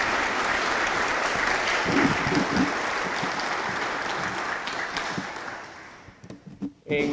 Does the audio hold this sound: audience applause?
yes